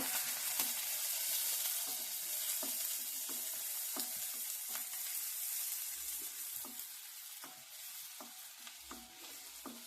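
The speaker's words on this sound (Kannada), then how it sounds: "ಇವಾಗ ಒಂದು ದೊಡ್ಡ ಈರುಳ್ಳಿ ಹಾಕೊತಾ ಇದ್ದೀನಿ, ಚಿಕ್ಕದಾಗಿ ಕಟ್ ಮಾಡ್ಕೊಂಡಿದ್ದೀನಿ ನಾನು. ಈರುಳ್ಳಿ ಎಣ್ಣೆ ಚೆನ್ನಾಗಿ ಫ್ರೈ ಆಗಬೇಕು." A large onion, finely chopped, fries in oil with a steady close sizzle, broken by regular scraping strokes as it is stirred in the pan.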